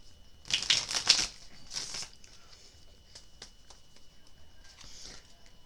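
Quick riffling shuffles of tarot cards, several crisp bursts early on, then quieter faint rustling and handling.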